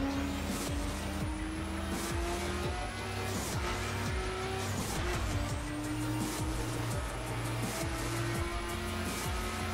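A car races through The Crew video game, its engine droning steadily with rising and falling gear tones while tires squeal repeatedly through turns, a continuous loud mix with no talk.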